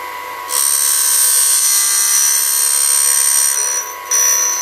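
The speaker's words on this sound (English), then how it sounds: "now I'm going to go around 180 degrees and grind the other face" An 8mm drill bit has its face ground on a grinder, a loud steady high-pitched whine that holds for several seconds, dips briefly and then resumes.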